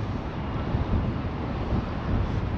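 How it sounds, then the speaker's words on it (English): Wind buffets the microphone on a seafront promenade, a steady close rumble of gusts that swell slightly and fade without break, with no voices. "It's a bit windy."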